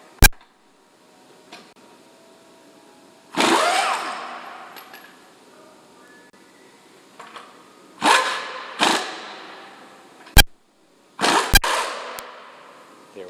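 An impact wrench zips off a car's wheel lug nuts in several loud whirring bursts with sharp clacks between them and quiet gaps as it moves from nut to nut.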